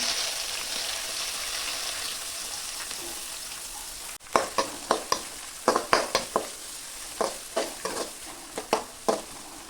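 Ginger, garlic, curry leaves and onion hit hot oil in a pan, a steady sizzle first, then repeated scraping stirs that come in close, sharp bursts over the frying.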